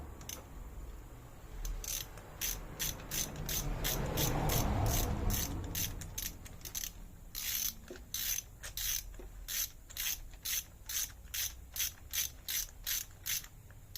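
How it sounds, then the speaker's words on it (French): A ratchet wrench tightens a bolt on a Volkswagen Golf 6, with sharp rapid clicking strokes in repeated bursts close by, a rushing noise swelling in between, then steady rhythmic ratcheting toward the end. "bien s'assurer qu'il a pris avant de commencer à serrer à la clé"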